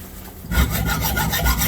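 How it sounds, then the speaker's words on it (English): A hacksaw rasps back and forth through a brake line from a 2007 Honda CR-V, starting after a short pause with steady, close, even strokes and no talking. "So I'm going to use a hacksaw and"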